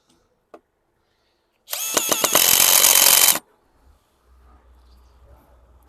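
A Metabo BS 18 L BL cordless drill drives a 6 mm yellow screw in one loud burst of about a second and a half, whining and ratcheting, followed by a faint low hum and brief quiet knocks.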